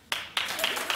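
Studio audience at a daytime talk show breaking into short bursts of clapping, several quick waves of hands rising and fading within a second, mixed with talk.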